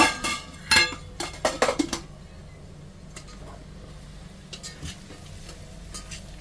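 Spice masala with red chilli powder being stirred in a pan for hotel-style paneer biryani: several sharp clinks of a spoon against the pan early on, then quieter scraping over a low background hum.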